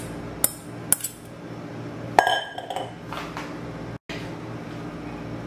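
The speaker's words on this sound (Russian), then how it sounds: "Now I add pasta" Dry bow-tie pasta dropped into a bowl for a pasta salad gives a few sharp clinks and ticks, then a louder scattered rattle of pieces landing, close and alone with no talk.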